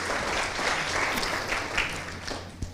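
A school event audience gives a sustained round of applause for a panelist from Barker, dense even clapping throughout with a sharp clap near the end.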